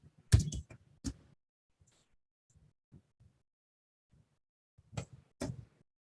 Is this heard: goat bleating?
no